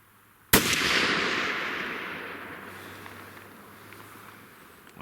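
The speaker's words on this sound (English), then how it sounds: "300 Karcher, first shots, a 180 grain Hornady Spire Point." A single sharp report from a .300 Karcher wildcat rifle firing a 180 grain Hornady Spire Point bullet, close and loud, with a long rolling echo that fades slowly afterward, no talking.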